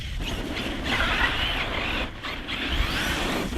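A Hobby King Berserker RC car running on a 4S battery, its high-pitched motor whine rising and dipping as it speeds along, fairly close and steady with brief drops.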